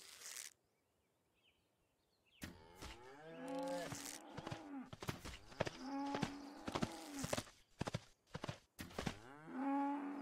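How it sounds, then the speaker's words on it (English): Cow in a survival video game, several drawn-out moos with hoof clip-clops between them after a quiet start, fairly loud and close. "It's a cow."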